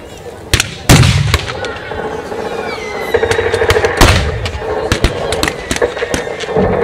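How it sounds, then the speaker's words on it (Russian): Russian artillery booms at a WWI battle reenactment of Gumbinnen: several sharp loud blasts and scattered cracks ring out across an open field over a steady outdoor rumble, with faint distant voices. "Вот выстрел русского орудия достиг цели."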